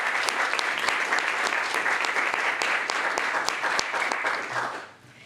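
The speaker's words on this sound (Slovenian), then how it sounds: "Tako da dajmo en aplavz." Sustained, dense applause from an audience at an award ceremony, loud and steady for several seconds before quickly fading out.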